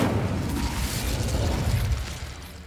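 The Incendio fire spell is cast in Hogwarts Legacy, a loud, dense roaring whoosh of flame that holds for nearly three seconds before thinning out, with no talk over it.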